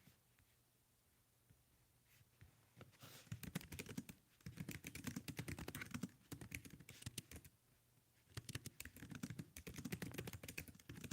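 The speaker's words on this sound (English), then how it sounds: "Right now, I'm typing in what you just said" Typing on a computer keyboard: bursts of quick, close key clicks with brief pauses between runs, fairly quiet and with no talking.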